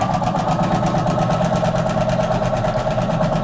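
A sewing machine running steadily at speed, with a loud, even, rapid mechanical clatter and hum throughout and no talking.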